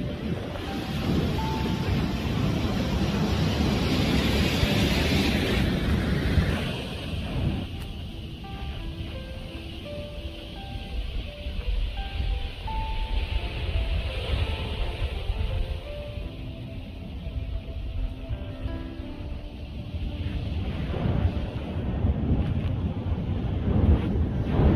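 Stormy winter sea at Cefalù, Sicily: heavy surf roars continuously alongside strong gusting wind buffeting the microphone, with a faint melodic tone partway through.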